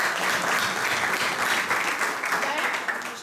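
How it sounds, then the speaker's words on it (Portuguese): Applause from an audience at a Portuguese-language talk, a dense, steady burst of clapping that stays strong before tapering slightly at the end, with a voice speaking over it. "Eu peço uma salva de palmas."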